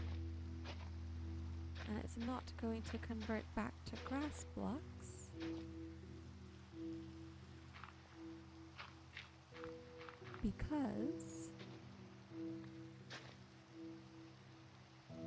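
Soft, steady rain falls in the video game Minecraft, a low continuous hiss beneath a quiet speaking voice that talks throughout.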